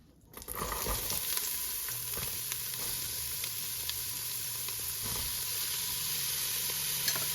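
Onion dropped into a hot pan for bread soup, the sizzle bursting in at once and holding as a loud, steady, close hiss with faint stirring, no talking.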